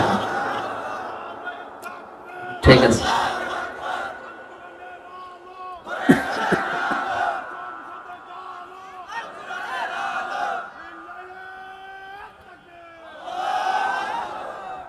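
Crowd at a Teknaf religious sermon gathering shouting a takbir chant in response, loud bursts of massed voices rising and falling, with a preacher's voice speaking between the shouts.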